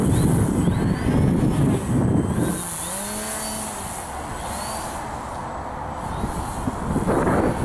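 VA Model LOOP EPP 3D RC plane in flight, its electric motor whining and buzzing loudly overhead with the pitch sweeping up and down as it passes and maneuvers, over outdoor wind noise.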